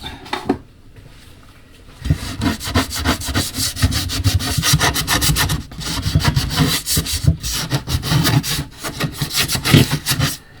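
Steady rhythmic rasping as wood is sanded by hand, brisk back-and-forth strokes continuing close up after a short pause.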